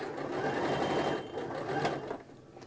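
Sewing machine stitching placemat fabric, a close, steady whirring run of stitches that slows and tapers off near the end.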